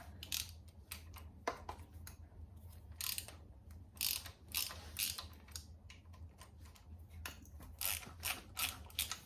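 A ratchet wrench working 10mm bolts loose on the water pump of an LQ4 6.0 engine, giving close, fast runs of metallic clicking broken by short pauses and a few louder clacks, with no talking.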